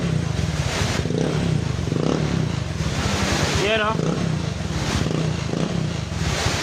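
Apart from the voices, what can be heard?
Honda Click motorcycle engine starting and running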